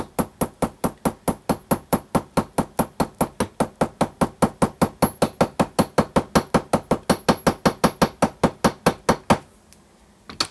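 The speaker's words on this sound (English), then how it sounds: "I'm just going to use this tiny hammer" A tiny hammer taps a Yeti Snow MX snowbike spindle in a fast, even series of sharp metallic knocks, dozens of close strikes in steady rhythm before stopping abruptly.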